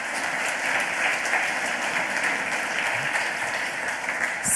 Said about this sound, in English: So if you'll please give him a round of applause,